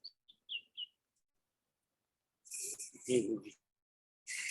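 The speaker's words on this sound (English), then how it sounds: "I hear the birds singing there with the jingles." A few short, high chirps from a bird early on, then quiet, followed by a brief burst of voices and the jingling of a jingle dress.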